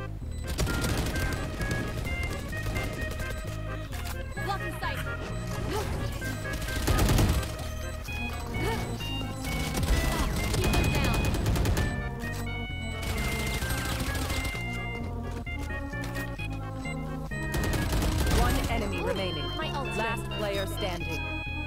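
Rapid bursts of gunfire from the video game Valorant, layered with game music and effects, building in dense volleys at intervals over a steady busy backdrop.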